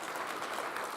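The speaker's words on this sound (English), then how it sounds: "But yes, a round of applause." Audience applause for a panel of speakers at an advertising industry conference, a dense, steady patter of clapping filling the whole moment without voices over it.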